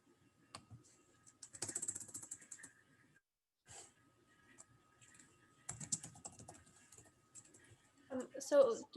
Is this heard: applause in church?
no